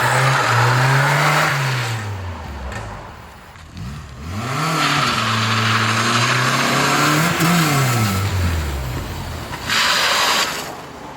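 A Nissan S13's engine revs and rises in pitch as the car pulls forward, easing off and accelerating again, fairly close with steady road and wind noise, in light rain.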